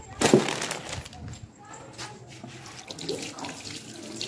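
Water from a running tap splashes over hands to help nail polish dry, a steady faucet stream with an initial splashing burst, heard close up while someone talks over it.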